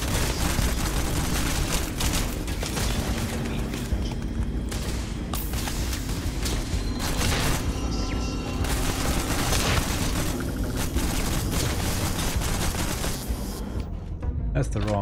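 Heavy, continuous gunfire and booming blasts from the sci-fi game Starfield fill the scene loudly, with a player's voice talking faintly beneath the combat.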